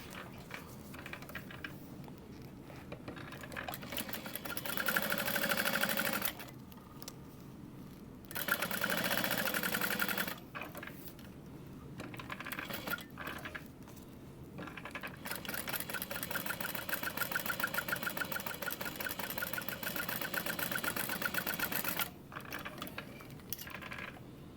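A domestic sewing machine top stitching a crossbody bag at a 3/8 inch seam allowance, running in steady bursts of rapid stitching with brief pauses between runs, close and moderately loud.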